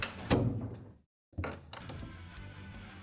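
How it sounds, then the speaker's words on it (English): A door closes with a dull thunk, followed by a brief moment of near silence and then a second softer knock and shuffling indoors at moderate volume. "Closing the door!"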